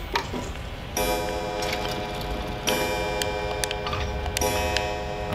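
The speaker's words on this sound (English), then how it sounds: "the clock pendulum. Here we are." A clock pendulum in the video game Resident Evil 7 ticks steadily, with resonant metallic tones ringing out every couple of seconds over a low background hum. No voices.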